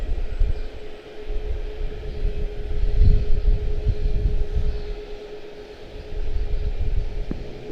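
A Delta airliner departs Charlotte-Douglas airport on a breezy afternoon, its engines giving a low, rumbling roar that rises and falls at a distance, mixed with gusty wind noise.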